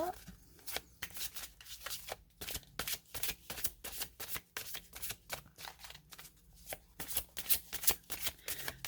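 Tarot cards are shuffled and drawn close up in a rapid, steady run of crisp riffling and slapping bursts that continues for several seconds, with no talk over it.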